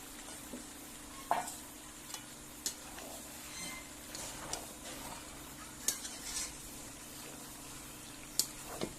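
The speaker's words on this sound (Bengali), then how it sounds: "এবার আমি আলুগুলো দিয়ে দিচ্ছি" Potatoes tossed into chicken frying in oil for Gandharaj chicken, then stirred: a faint, steady sizzle with scattered soft scrapes and clicks of the spoon against the pan.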